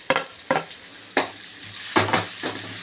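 Onions fry in hot oil for a paneer gravy with a low sizzle. About five distinct scraping stirs of a spoon against the pan come close and loud, with no talking.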